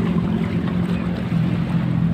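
A passing ferry's steady low engine drone with constant rumble and water wash, motoring close by, unbroken throughout.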